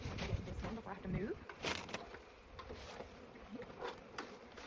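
Honey bees buzzing inside a hive opened for its first check after winter, a steady close drone under a voice talking.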